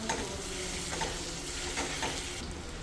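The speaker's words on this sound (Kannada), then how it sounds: "ಆಲೂಗಡ್ಡೆ ಹಾಕ್ಕೊಂಡು ಮಿಕ್ಸ್ ಮಾಡ್ಕೊಳ್ಳೋಣ" Potatoes being stirred in a pan with oil for poori sagu, a steady scraping and sizzling frying sound running continuously throughout, close and moderately loud with no talking.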